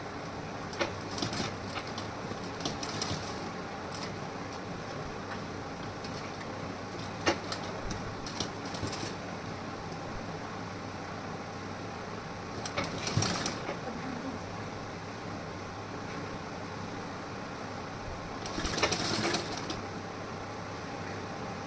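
A sewing machine stitches folded piping onto a blouse in several mechanical bursts spread across a quiet background, its rattling whir rising and stopping at intervals, fairly soft and without talk.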